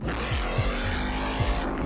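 Factory Five 427 Cobra replica, a Shelby-style roadster with around 450 horsepower, accelerating hard with a loud, rising V8 roar and throttle surges in a short close-up burst.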